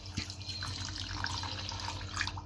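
Water pours steadily from a tap into a container for making sugar syrup in a home kitchen, a continuous splashing flow at moderate level with no voices.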